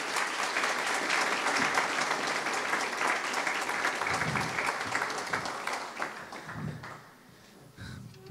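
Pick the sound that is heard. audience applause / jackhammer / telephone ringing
audience applause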